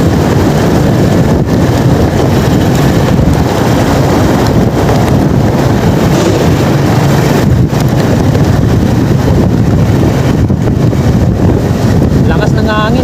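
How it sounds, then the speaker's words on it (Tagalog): Strong wind buffeting the microphone outdoors beside a NAIA Terminal 3 airport off-ramp under rehabilitation, a loud continuous roar with gusty low rumble and no pauses throughout. "Lakas ng hangin"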